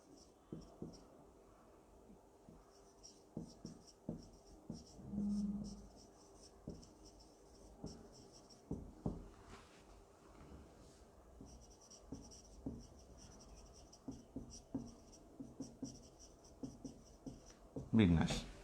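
Pen scratching on paper while a diagram is drawn for an electrical technology lesson, a long run of quiet, irregular close strokes and taps, with a voice speaking faintly at times.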